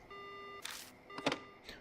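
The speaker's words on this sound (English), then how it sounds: "The line goes dead." A phone line going dead in the Death Mark horror game: a steady electronic tone breaks off into a couple of short bursts of static-like noise, then fades with a faint trailing hiss.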